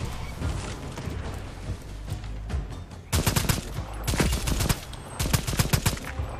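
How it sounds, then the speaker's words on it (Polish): Shotgun blasts in the game Second Extinction, several loud booming shots in quick clusters over a steady background of game noise and combat rumble, fired at a slightly delayed, uneven rhythm. "shotgun z lekkim opóźnieniem strzela"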